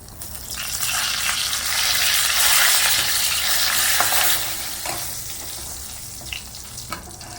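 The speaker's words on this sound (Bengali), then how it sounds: "তেজপাতা দিচ্ছি।" Bay leaves sizzle in hot oil with dried red chillies for a Bengali-style katla fish curry, a loud, close, broad hiss that swells and then eases, with a few stirring clicks.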